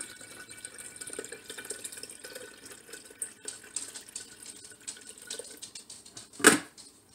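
Filtered water runs softly into a jar in a kitchen while making kombucha, a faint steady trickle that ends with one sharp knock.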